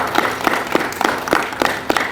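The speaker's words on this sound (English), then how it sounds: "Let's just give a round of applause for our first responders." Applause from a community gathering honoring local first responders: a modest group claps in an uneven rhythm with distinct hand claps, fairly close and steady throughout, no talking.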